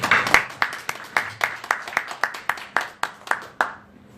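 Church congregation clapping during a Sunday sermon service: a short run of about a dozen sharp, evenly spaced claps in a steady rhythm, fairly close and alone, stopping abruptly after about four seconds.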